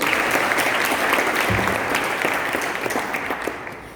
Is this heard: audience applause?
yes